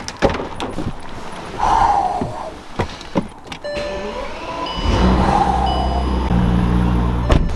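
Bentley with a W12 engine, heard from inside: door thunks and clicks, then the engine starts and settles into a steady, fairly loud idle hum.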